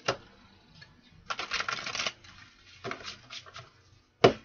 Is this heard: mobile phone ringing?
no